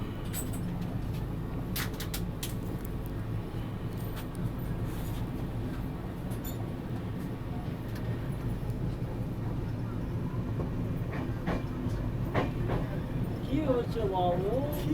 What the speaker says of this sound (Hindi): अपनी ट्रेन बख्तियारपुर रेलवे स्टेशन से भी डिपार्ट कर चुकी है